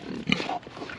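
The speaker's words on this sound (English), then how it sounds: "I know, you're such a good pig." A homestead pig gives a short, close grunt lasting about a second, with little else around it.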